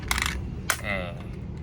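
A single coin drops through a magic trick device that passes it through a stick, giving a couple of bright metallic clinks followed by a short ringing rattle, close up and alone.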